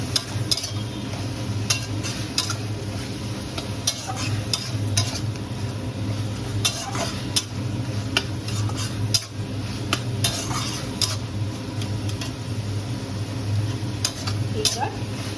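Chicken and spice paste frying in a pan for chilli chicken: a continuous sizzle runs underneath sharp, repeated clinks and scrapes of a spoon stirring against the pan.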